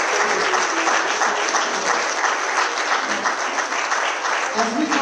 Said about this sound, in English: Come on, let's give the Lord one more hand clap.